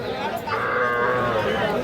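A heifer calf gives one drawn-out moo, fairly close, over low background noise and faint chatter.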